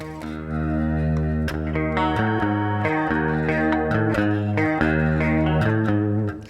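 Electric guitar played through a Line 6 Helix Rack on a patch: a loud, distorted, chorus-tinged riff of rhythmic chugging chords and sustained notes, steady and close, with no talking.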